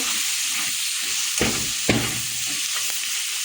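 Tomato and onion frying in a pan with salt and turmeric, giving a steady broadband sizzle with a few sharp stirring scrapes near the middle, close and moderately loud with no talking.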